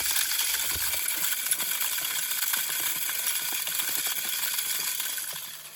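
A Moultrie 200 lb solar-powered spin deer feeder runs a test cycle, its spinner whirring and scattering corn in a rapid rattling clatter of kernels for several seconds before tapering off at the end.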